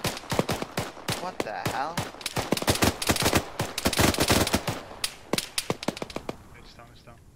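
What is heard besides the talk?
gunfire in a video game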